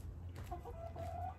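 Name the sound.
backyard chickens clucking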